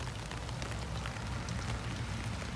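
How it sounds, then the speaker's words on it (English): Rain falling steadily outdoors, a dense continuous patter of drops on surfaces with no voices. "It's raining today, and I'm gonna go get some eggs."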